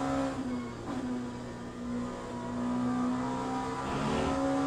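LMP2 prototype race car engine at Spa in the Le Mans Ultimate racing game, a steady droning tone that swells and eases through gear changes, continuous and close, with no talk.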